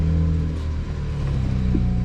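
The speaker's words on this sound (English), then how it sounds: "let me pop the hood, turn on the car, and then give you guys a couple revs so you guys can hear how the blow off valve sounds" A car engine fitted with a VRSF charge pipe and an HKS blow-off valve runs with a steady, loud, low rumble and a slight rise in revs, close up, with no talking.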